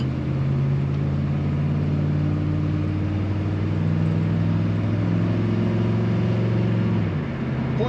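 A 1982 Chevrolet C10 Silverado with a 6.2 liter diesel engine and automatic transmission idles and revs, a loud, steady low diesel drone with a rising and falling tone that drops off near the end.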